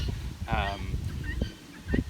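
Cornish cross meat chickens on a small organic farm give a short burst of harsh, honking clucks, with scattered rustling and softer bird calls around them, close by and fairly loud.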